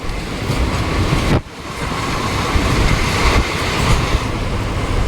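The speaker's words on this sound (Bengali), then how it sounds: "পাশ দিয়ে মালগাড়ি চলে যাচ্ছে" A goods train rolls past alongside a moving passenger express near Murshidabad station, a steady loud rumble of wheels with clickety-clack and a brief dip in the roar as wagons go by.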